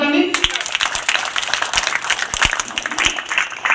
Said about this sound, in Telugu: ఒకసారి క్లాప్స్ కొట్టండి